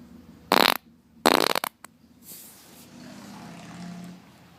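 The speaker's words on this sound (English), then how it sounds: "You wanted farts. You got farts." Two loud, close farts in quick succession, each a sharp burst, followed by a brief rattle and then quiet room noise.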